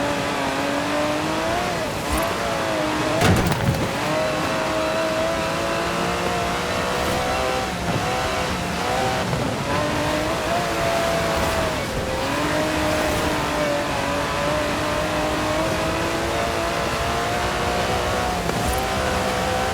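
An Aston Martin DB11's 5.2-litre twin-turbo V12 racing in Forza Horizon 4 roars steadily and loudly throughout, revs rising and falling through gear changes, with occasional tire noise and no talk.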